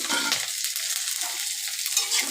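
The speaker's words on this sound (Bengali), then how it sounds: "একটু লাল লাল করে পেঁয়াজটাকে ভেজে নিই" Onions and green chillies frying in hot oil while being stirred, for a kasundi hilsa dish. A steady, close hiss of sizzling with soft stirring scrapes, continuous throughout.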